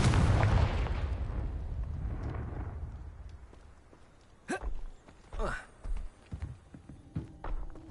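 A Confringo fire curse from the Hogwarts Legacy video game bursts in a sharp blast after a loud rumbling opening, followed by a run of short, punchy impact bursts of moderate loudness. Faint speech-like game sounds are present.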